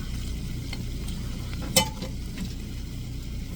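Bacon started cold in a number 4 cast iron skillet gives off a steady, even sizzle close by, with one brief clink partway through.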